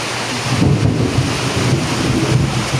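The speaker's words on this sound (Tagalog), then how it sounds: "nagising siya dahil panay kulog" Heavy rain pours steadily while thunder rumbles low and continuous underneath, a loud, dense wash of storm noise with no voices.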